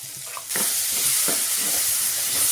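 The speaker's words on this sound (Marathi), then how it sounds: "आणि आपल्याला छान आता हे परतून घ्यायचंय बघा" Spice paste sautéed with onion and tomato in a pan starts sizzling loudly and holds a steady hiss, with soft scraping from stirring beneath it.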